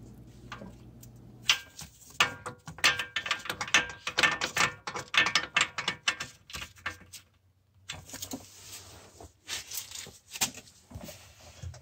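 Ratcheting clicks from a wheel bearing puller tool being tightened on the front hub of a 2011 Nissan Altima coupe, in rapid close bursts with a short pause midway, no talk.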